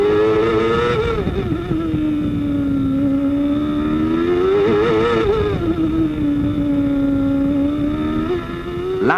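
Formula 1 race cars from the 1994 season scream past, a continuous loud high-revving engine whine that rises and falls in pitch as the cars pass and shift gears.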